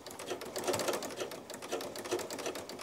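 A sewing machine fitted with a ruffler foot gathers fabric at a 2.5 stitch length, giving a rapid, even mechanical chatter in regular pulses, fairly quiet and heard alone.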